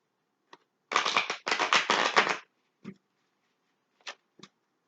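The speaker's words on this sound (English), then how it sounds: "One more shuffle, folks." Tarot cards riffle-shuffled in two quick rustling bursts, followed by a few soft taps and clicks as the deck is squared, close and clear.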